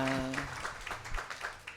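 Faint, rhythmic clapping from a congregation at a Christian testimony gathering, with a brief tonal voice at the start before the claps continue evenly.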